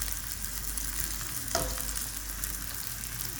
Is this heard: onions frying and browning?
yes